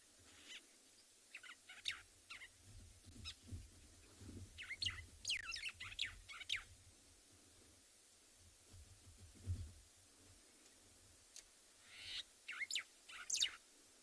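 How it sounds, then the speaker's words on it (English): White-browed sparrow weavers chatter on an afternoon safari in South Africa, with scattered high chirps and calls coming in clusters at a distance over faint low rumble, fairly quiet overall. "those little birds, very noisy little characters. Very common out here. It's called a white-browed sparrow weaver."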